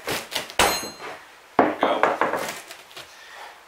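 A hammer prying up rotten floorboards during a floor repair produces sharp wooden knocks and cracking bangs in uneven bursts, loud and close, and a voice briefly speaks.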